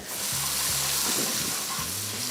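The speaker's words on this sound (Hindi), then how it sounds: "सबसे पहले अदरक और लहसुन, और इसको हम थोड़ा सा करेंगे फ्राई" Ginger and garlic fry in a hot mix of oil and ghee with a loud, continuous sizzling hiss that stays dense and even throughout.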